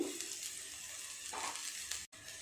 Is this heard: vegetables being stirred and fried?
yes